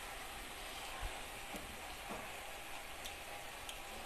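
Maruya, Bicol-style banana fritters, frying in hot oil in a pan: a steady, faint sizzle and crackle with a few soft pops and clinks, no talking.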